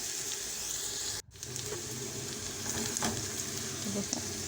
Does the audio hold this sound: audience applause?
no